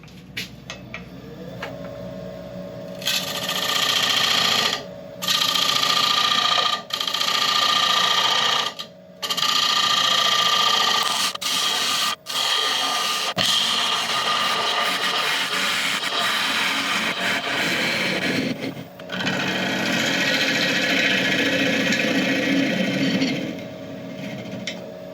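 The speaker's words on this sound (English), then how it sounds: "do a nice fine cut on this rim, and then the final passes across the bottom" A wood lathe spins a bowl while a bowl gouge takes fine finishing cuts across the rim and bottom, producing loud, sustained hissing cutting noise in long stretches broken by brief pauses.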